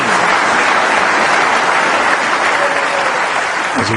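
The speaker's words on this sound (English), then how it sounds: "as he gets a terrific round of applause" A large snooker audience applauding loudly and steadily during a Ronnie O'Sullivan versus Matthew Stevens frame, a dense continuous roar of clapping with no pauses.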